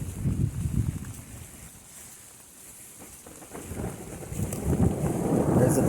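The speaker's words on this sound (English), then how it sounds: "There's the thunder again." Thunder rolls low and distant during a rainstorm, swelling at the start and again toward the end over a constant hiss of falling rain.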